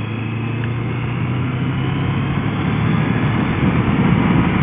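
Loud, steady motorcycle exhaust drone from a loud aftermarket-style exhaust with wind rush, building slightly in volume toward the end as the bike speeds up.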